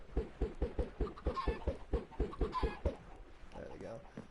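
Chickens in the video game Minecraft give a rapid run of short, rhythmic clucks, fairly quiet and close, that trails off into softer sounds near the end.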